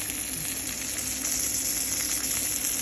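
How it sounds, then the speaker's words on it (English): A beef steak sizzles and fries in a pan with a steady dense crackling hiss, even and unbroken for about three seconds at moderate loudness, with no talking. "That's the sizzle."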